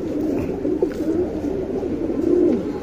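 Domestic pigeons, including Cheeni and Sabja breeds, coo in a steady low murmur that carries on throughout, close by and with no one speaking.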